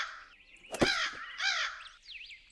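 Crows caw in a golf video game, a sharp thud followed by a couple of loud hoarse caws and a fainter trailing call.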